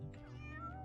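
A person imitates a cat with a short, close meow during a Let's Play of Here Come The Mystery Teens, drawn-out and slightly tonal with no other talk.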